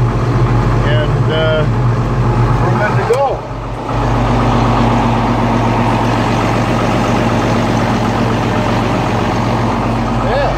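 A John Deere 4640 tractor engine runs steadily just after a steering pump repair, a loud continuous diesel drone with a brief dip partway through, while the wheels are turned back and forth.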